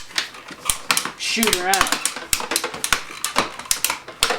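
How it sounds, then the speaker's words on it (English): A NERF Vulcan blaster's tripod mount creaks and clicks as it locks and swivels, giving a dense run of sharp plastic ticks and snaps with a brief voice over the top. "It's a little creaky just because of all the clicking and locking and stuff"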